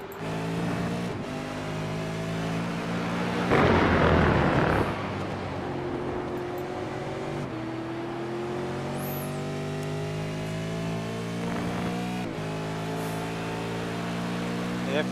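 V8 race cars in the East Coast V8 Series at Donington drone loudly in a steady multi-engine roar, with a pass-by surge of noise partway through, under continuous commentary.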